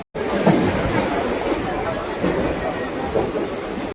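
Steady, loud rumble and rattle from inside a moving Mumbai local train, with a faint voice speaking under the noise.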